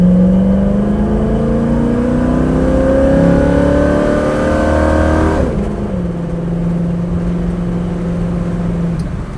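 A 1970 Ford Mustang with a 302 V8 and automatic transmission revs hard on kickdown during a road drive, the engine note climbing loud and steady, then dropping abruptly as it shifts and settles into a lower cruising drone.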